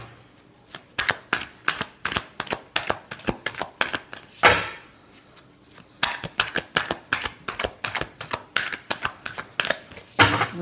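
A deck of tarot cards is riffled and bridged up close in quick, crisp bursts of flapping clicks, with a brief pause before another long round of shuffling. No one speaks.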